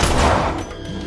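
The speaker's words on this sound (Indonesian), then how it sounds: "Kakek menembak ponsel itu." In a thriller film scene, a grandfather fires a pistol at a ringing phone: a single loud, sharp blast with a short rumbling decay.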